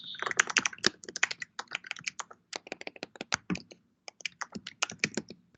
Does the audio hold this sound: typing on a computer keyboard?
yes